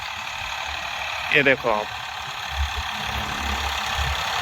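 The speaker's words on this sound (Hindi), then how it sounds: "फार्म ट्रैक 60 ट्रैक्टर है, तीसरे के लो में चाल ठीक है" Farmtrac 60 tractor ploughing a sugarcane field in western Uttar Pradesh in third low gear, its steady low engine drone running throughout beneath a man's brief speech.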